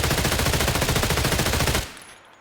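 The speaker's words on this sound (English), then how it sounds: "This is the MPX. I just got a little P1X on there" An MPX submachine gun in Escape from Tarkov, fitted with a P1X sight, fires one sustained rapid burst of evenly spaced, loud close shots, then cuts off into a brief fading tail.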